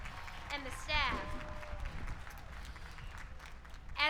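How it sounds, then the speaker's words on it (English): Graduation audience claps for the principal and staff at a high school ceremony, a moderate, fairly distant applause under scattered voices and whoops from the crowd. "So let's just give them a big round of applause, our principal and the staff."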